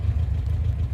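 A Suzuki Carry engine running steadily right after a starter crank, a loud, dense low-pitched idle rumble with a slight clatter holding even throughout, no talk over it.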